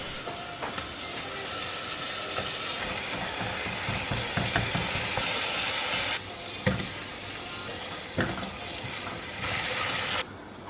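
Ginger, garlic and tomato paste go into a hot pan for dal, giving a continuous close sizzle and hiss of frying with occasional stirring clinks against the pan.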